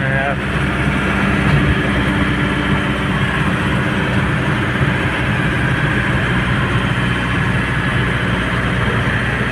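A Nissan Big M pickup truck's engine idles steadily with a continuous low rumble, close and loud throughout, with voices occasionally over it.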